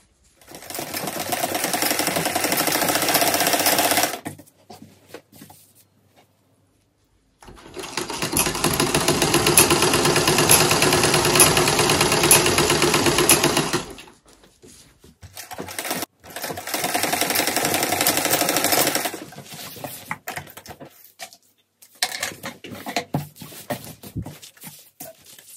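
A sewing machine stitches around the hem of trouser legs cut from a sweater, running in three long bursts of steady mechanical whirring with brief pauses between, close and loud, with a shorter stop-start run at the end.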